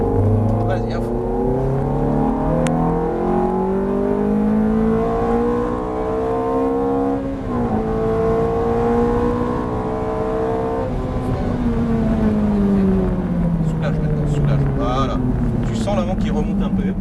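A Ferrari F430 accelerating out of a corner on the Chenevière track, its engine note rising steadily through the revs and shifting up, loud and sustained throughout.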